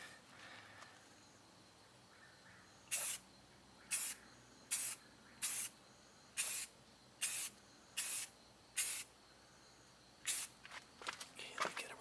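Short bursts from a paint spray gun lay a light coat on an Audi Q5, about ten separate hissing puffs in an uneven rhythm, close and crisp against a quiet background.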